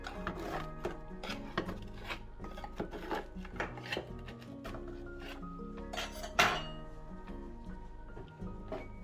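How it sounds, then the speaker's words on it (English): Butter knife scraping and clinking around the edges of a sourdough sandwich loaf in its tin, a quiet run of metallic taps, rubs and clinks with one sharper knock near the end. "just use a butter knife to loosen the edges"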